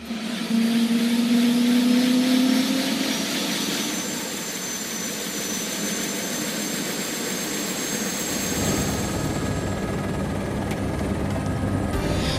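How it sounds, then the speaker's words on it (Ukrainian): A helicopter flying over the European Alps drones loudly and steadily, the turbine whine and rotor thrum close and constant, shifting in tone partway through, with no voices heard. "в нас випала нагода політати на ось такому гелікоптері"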